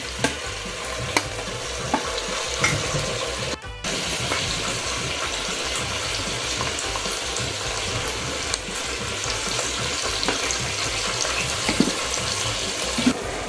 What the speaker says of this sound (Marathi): कढीपत्ता, आलं लसूण पेस्ट, कांदा आणि टमॅटो हे सर्व आपण आता एकजीव फ्राय होईपर्यंत ठेवणार आहोत।